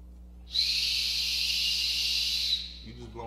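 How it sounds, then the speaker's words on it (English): A whistle blown weakly so it gives mostly breathy air instead of a tone: a close, steady hiss lasting about two seconds, then stopping. "Blowing air, it's not making that whistle sound."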